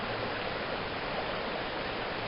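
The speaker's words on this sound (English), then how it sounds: "just enjoy the flow of the water" Tumalo Creek water flowing steadily, a constant broadband rush like a small stream over rocks, close and even in level throughout with no voices.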